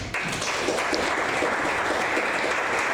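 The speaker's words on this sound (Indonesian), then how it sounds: "Boleh kasih tepuk tangan." A crowd applauds steadily at a university seminar in Medan, Indonesia: dense clapping that starts abruptly and holds at an even level for a few seconds.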